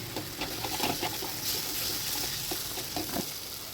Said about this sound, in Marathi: अशा प्रकारे उलटण्याने पटपट पटपट असं हे मिक्स करत परतून घ्यायचं आहे